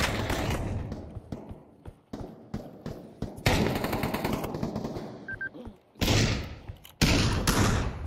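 Rapid bursts of video game gunfire, automatic weapon fire and single shots, loud and close, with dense volleys broken by short pauses and a voice talking at moments.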